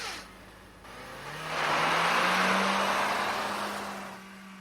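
A car engine swells after a handbrake release and pulls away, rising steadily in pitch and loudness over a few seconds, then easing off, with no voices over it.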